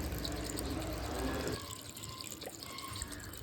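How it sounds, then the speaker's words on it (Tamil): One litre of water pours into a pot of mutton gravy. A full gushing splash lasts about a second and a half, then softens to quiet trickling and dripping. "1 லிட்டர் தண்ணி அதில் ஊற்றிக்கலாம்"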